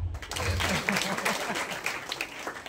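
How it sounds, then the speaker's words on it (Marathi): Audience applause at a Marathi poetry talk by poet Anant Raut, a steady, fairly close wash of many hands clapping that runs through the clip, with a voice briefly audible over it. "जोरदार टाळ्या वाजवा."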